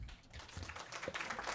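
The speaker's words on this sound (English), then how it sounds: "Small round of applause" Light applause from a small audience, a scattering of claps building slightly over a second and a half, fairly close and unaccompanied by speech.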